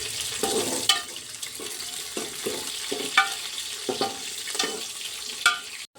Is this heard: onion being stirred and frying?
yes